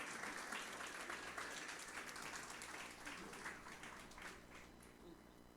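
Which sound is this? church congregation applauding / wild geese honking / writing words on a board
church congregation applauding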